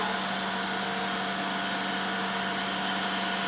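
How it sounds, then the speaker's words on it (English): A bowl gouge cuts a heavy wooden lid spinning on a lathe, giving a steady, loud whirring hiss with a constant motor hum, sweeping from the far side toward the centre. "So I'm starting with the bow gouge right over the other side of the bed bars"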